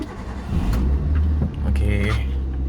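A car engine cranks and catches, then settles into a low idle with a rev rising over it; a voice talks over the start and keys jingle nearby.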